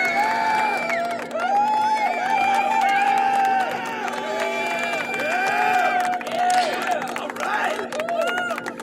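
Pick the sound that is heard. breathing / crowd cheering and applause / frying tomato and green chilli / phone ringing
crowd cheering and applause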